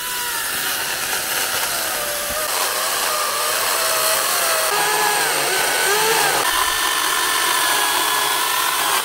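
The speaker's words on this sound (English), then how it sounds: "I didn't realise that chainsaw was that good." A chainsaw runs loud and close while cutting through a fallen tree blocking a bush track. It gives a continuous high whining buzz, and the pitch wavers and dips as the chain bites into the wood.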